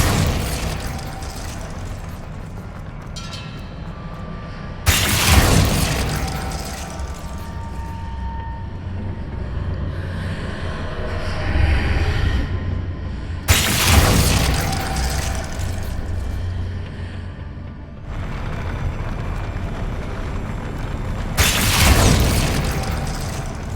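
Spells cast during a Hogwarts Legacy duel, including the Glacius freezing charm, land as heavy booming bursts at roughly eight-second intervals over a continuous low rumble of game ambience, loud and with no speech.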